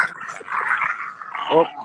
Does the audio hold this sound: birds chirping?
no